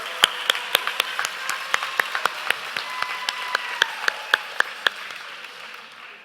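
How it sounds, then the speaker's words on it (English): Applause from an audience at a 2021 education awards celebration evening, a sparse patter of individual claps fading away over about six seconds. "Please give yourselves a round of applause for all you've done."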